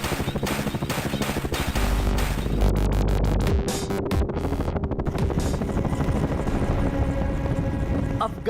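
Combat helicopter in flight, a dense steady rotor and engine roar that stays loud throughout, layered with music-like tones and sharp effect hits.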